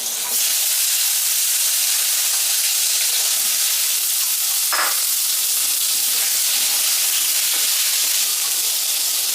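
Brinjal pieces are dropped into hot oil with a tempering of nigella seeds and green chili for a hilsa curry, producing a loud, steady sizzle throughout with a brief stirring clatter partway through.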